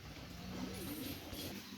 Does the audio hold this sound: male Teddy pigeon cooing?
yes